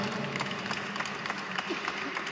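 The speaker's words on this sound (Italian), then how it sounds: "Un grande applauso." Audience applause for a singer at a Neapolitan song event in Italy, a steady wash of clapping heard at a moderate distance.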